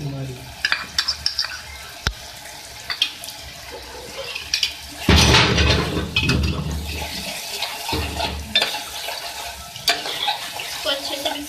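Garam masala paste fries with beef liver in a hot pan while it is stirred, giving loud, continuous sizzling with scraping strokes and a few sharp clanks.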